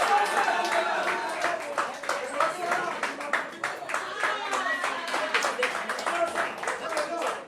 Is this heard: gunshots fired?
no